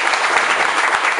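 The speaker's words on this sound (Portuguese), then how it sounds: "Salve de palmas para o nosso prefeito." A round of applause for the mayor at a rural community gathering on a rainy day, dense, steady clapping from a crowd, loud and close, filling the whole moment without a break.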